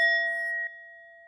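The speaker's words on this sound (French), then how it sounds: "du sound healing avec mon petit carillon" A small chime rung once for sound healing: a bright metallic strike whose clear ringing tones hold and slowly fade, close and alone.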